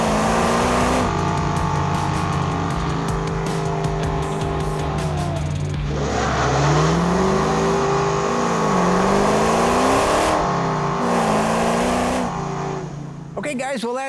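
A 707 horsepower Dodge Challenger roars loudly and continuously, its engine rising and falling through repeated revs and accelerations, with tire squeal mixed in.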